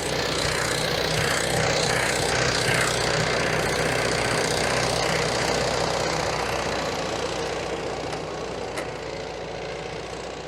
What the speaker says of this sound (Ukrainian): бачите, не виє нічого трактор